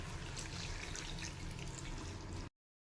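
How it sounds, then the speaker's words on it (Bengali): Hot water pours steadily into an egg curry with soybean, a faint continuous splashing stream that stops abruptly. "এবারে দিয়ে দেবো এর মধ্যে করে রাখা একটু গরম জল।"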